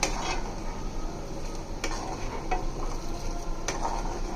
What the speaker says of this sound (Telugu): మళ్ళీ చికెన్ ముక్కలు ఇందులో వేసి అవన్నీ పొల్లు వేసేస్తాం.